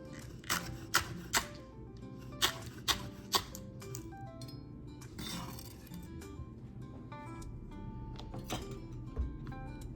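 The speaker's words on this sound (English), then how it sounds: "for the onion greens, I'm gonna just do a rough chop with my knife" A knife roughly chops onion greens on a cutting board, giving a handful of sharp, separate knocks spaced through the first few seconds over a low background hum.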